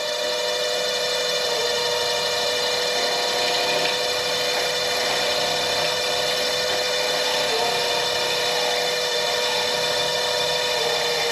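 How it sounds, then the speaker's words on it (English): A wood lathe turns a walnut pepper mill blank while a tool cuts a tenon to fit the chuck, giving a steady, continuous scraping hiss over the motor hum that stays close and fairly loud throughout, with no talking. "First thing I'm going to do is I'm going to make a tenon that goes into my chuck"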